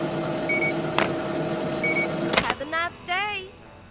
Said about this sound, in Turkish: Çöp arabamız geldi.